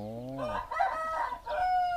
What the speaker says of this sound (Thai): อันนี้ก็เป็นไก่ชน